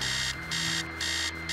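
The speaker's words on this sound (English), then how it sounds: "Oh, and the alarm has reset as well to the flashing nines." A video game alarm clock in the horror game Stories Untold rings with a steady electronic buzz pulsing on and off in regular bursts, loud and alone.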